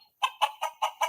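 Five evenly spaced, clucking chicken calls played as a sound effect, loud and clear over silence, with no voices.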